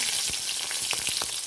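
Green chillies drop into hot oil left from frying fish, giving a brief steady sizzle with a few sharp pops and crackles, close up and with no talking.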